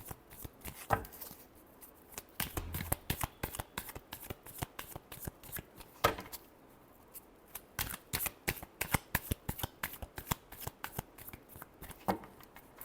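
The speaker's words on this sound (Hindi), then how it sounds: "Last shuffle." A deck of cards is shuffled for a tarot-style reading, giving quick repeated riffling bursts and soft snaps at close range, with short pauses between rounds and no talking.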